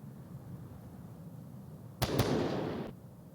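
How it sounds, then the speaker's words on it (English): Gunfire in an Onward VR match: a couple of sharp, close cracks fired in quick succession, then a brief rumbling tail over a quiet background hiss, with no talking. "Shots from RSR onto Donnie over here, peeking over the fence"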